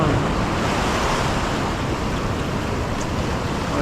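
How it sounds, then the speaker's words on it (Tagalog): Strong ocean waves surge nearby during a fishing outing, a dense, unbroken roar of surf mixed with wind buffeting the microphone. "Lakas ng alon mga bawi oh."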